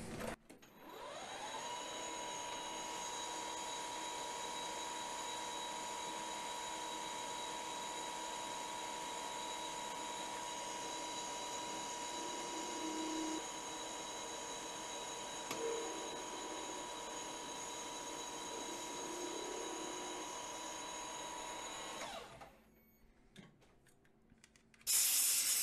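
A lathe makes a semi-finishing pass at reduced feed on a long, hot metal part, drenched in coolant spray: a steady loud hiss with a high whine runs continuously for over twenty seconds, then cuts off abruptly.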